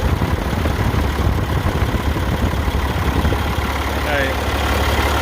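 A log loader's John Deere engine runs steadily at idle, producing a constant close rumble with no breaks.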